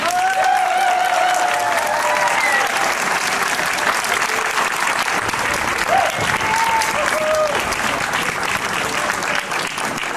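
An outdoor audience at the troubadour tournament in Gruyères gives a long, dense burst of applause for a contestant, steady and loud, with whistles and scattered voices rising over it.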